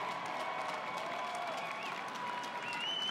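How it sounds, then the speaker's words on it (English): A crowd claps and cheers for two women fighters in a mixed martial arts cage at a PFC12 event. The applause is steady and fairly distant, with faint crowd voices and some whistles underneath. "put a big round of applause together, please, for both of the ladies in this cage"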